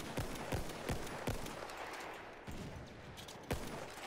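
Marksman rifle shots in Battlefield 1, a burst of rapid, evenly spaced cracks followed by two isolated shots, loud and close within a dense, noisy battle soundscape.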